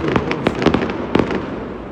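Fireworks bursting over Brighton during a city fireworks night: several sharp, loud cracks and bangs at irregular intervals, with a quieter rumbling crackle between them.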